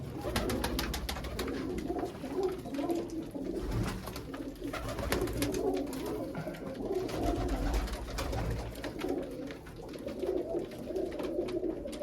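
Several black pigeons kept in a loft coo continuously, soft rolling murmurs overlapping in an unbroken chorus with faint rustling behind, no one talking.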